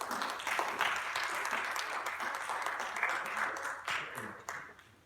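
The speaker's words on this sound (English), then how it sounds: "So let's give them another round of enthusiastic applause." Audience applause fills a hall at a celebration event, dense sustained clapping throughout, fading slightly toward the end.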